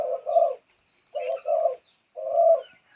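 Three bursts of soft, trilling zebra dove cooing, each about half a second long with short pauses between, close and clear against a quiet background.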